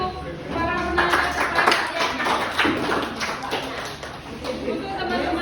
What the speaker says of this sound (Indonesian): Tepuk tangan untuk para penanya.